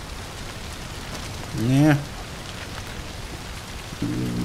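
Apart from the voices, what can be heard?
rain in video game Red Dead Redemption 2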